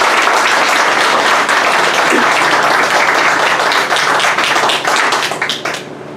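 An audience at a veterans' breakfast event at Rocky's tavern claps loudly for the hosts, a close, dense burst of many hands that holds steady and then thins out at the end.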